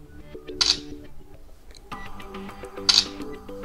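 Two short synthetic shutter clicks from a Realme C35 phone camera, spaced a couple of seconds apart and heard close, with soft button taps and faint tonal background between them.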